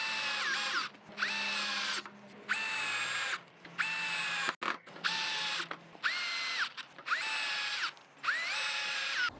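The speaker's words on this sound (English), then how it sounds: "we'll just whack some screws through there" A power drill driving screws through saddle clamps into a vintage wire crate cart, about seven loud, close whirring bursts of roughly a second each, separated by short pauses.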